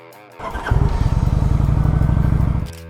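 A Kawasaki Vulcan 900 cruiser motorcycle engine starts up and settles into a loud, close, throbbing idle with a steady low rumble that cuts off abruptly at the end.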